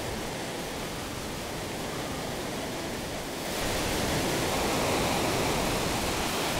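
Fast-flowing water current in the SNES game Final Fantasy VI, a steady broadband rushing hiss that swells louder about halfway through and continues without any talk.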